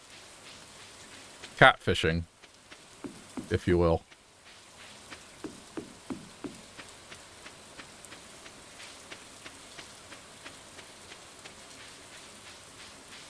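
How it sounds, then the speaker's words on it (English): Soft, steady rainfall patters continuously in Stardew Valley 1.6, faint and even beneath someone talking, with a few brief game effects popping in. "Okay, so it's raining."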